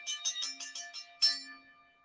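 A new ring bell struck about six times in quick succession, then once more after a brief pause, leaving a ringing metallic decay; close, clear and without speech.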